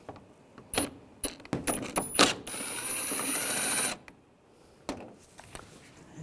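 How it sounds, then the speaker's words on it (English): Ratchet with a T30 socket on a long extension backing out a headlight mounting bolt on a 2009-2017 Volkswagen Tiguan, quick metallic clicks followed by a steady ratcheting run, then scattered clinks. "you're going to need a longer extension with the T30 socket. And take that bolt out."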